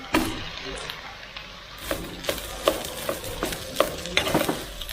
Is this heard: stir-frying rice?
yes